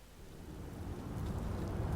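A storm in the video game Spec Ops: The Line, with a dense rush of heavy rain and a low rumble of thunder building steadily louder, and no voices.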